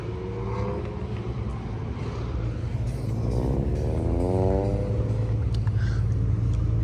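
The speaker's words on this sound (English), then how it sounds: "Why you gotta make all that fucking noise out of that little old ass car?" A Lamborghini Temerario engine revving loudly, a deep rumble under a rising and falling whine as the revs climb, sustained and close.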